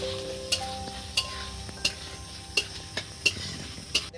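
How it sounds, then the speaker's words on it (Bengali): Grated coconut frying in a pan for vegetarian ghugni, a low steady sizzle broken by sharp regular taps and scrapes of a metal spatula against the pan about every second, close and unaccompanied by speech. "নারিকেলটা একটু ভেজে নেওয়া হচ্ছে বন্ধুরা"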